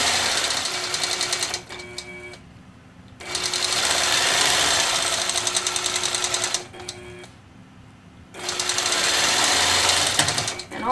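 A sewing machine stitches a floating crosshatch quilting pattern in three long, steady, loud runs of rapid mechanical chatter, separated by brief quiet pauses.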